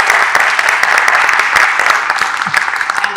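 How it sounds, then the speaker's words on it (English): Steady audience applause at an artist's talk for the Forever Is Now exhibition, a dense wash of many hands clapping at a fairly loud level for the full length, with no voices standing out. "So a round of applause for them."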